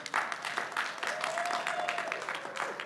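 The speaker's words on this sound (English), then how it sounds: "I hope you could make out that applause." Faint, distant audience applause after an interview, a thin steady patter of clapping with a brief whistle-like tone in the middle.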